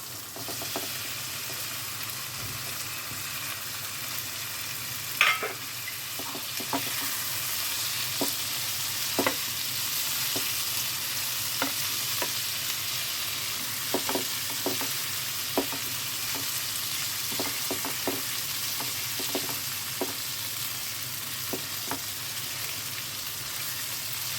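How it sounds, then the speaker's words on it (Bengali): Potatoes and peas sizzle steadily as they fry in a pan of cooked-down tomatoes for dhaba-style aloo dum, with a continuous loud hiss and scattered sharp spatula scrapes and clicks from stirring throughout. "এর মধ্যে আলু আর কড়াইশুঁটিটা দিয়ে দিই।"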